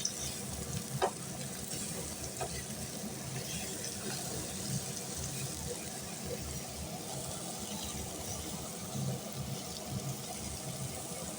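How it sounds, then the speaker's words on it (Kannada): Food frying slowly in a pan gives a steady, soft sizzle throughout, with occasional faint clinks and stirring noises and a low background hum. "ನಿಧಾನಕ್ಕೆ ಫ್ರೈ ಮಾಡ್ಕೊಬೇಕು."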